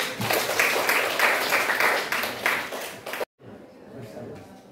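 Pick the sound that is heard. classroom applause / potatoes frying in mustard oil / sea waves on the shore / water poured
classroom applause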